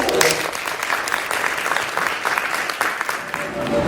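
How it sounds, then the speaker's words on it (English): A convention crowd applauds steadily for a panel at VidCon Baltimore 2023, many hands clapping in a dense, continuous patter, moderately loud throughout. "Can we give a round of applause to our panelists?"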